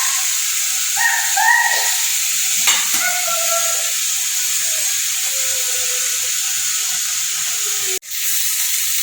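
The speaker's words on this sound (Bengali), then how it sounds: "আমার শাকটা প্রায় ভাজা ভাজা হয়েই গেছে।" Leafy greens (shak) fry in a pan, a loud steady hiss and sizzle throughout with occasional stirring scrapes and a sharp knock near the end.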